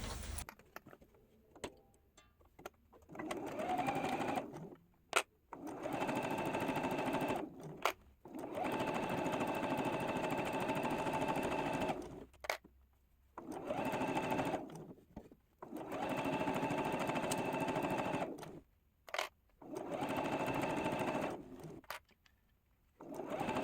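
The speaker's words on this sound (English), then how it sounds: "now I'm going to sew that 1/4 inch all the way down" A sewing machine stitches a quarter-inch quilt seam in a quilt-as-you-go project, steady whirring runs of several seconds broken by short pauses, close and even, with no talk.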